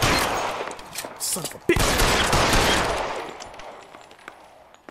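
Rapid gunfire from the video game L.A. Noire rattles in dense, loud bursts with a sharp crack near the middle, then trails off, while a man swears over it.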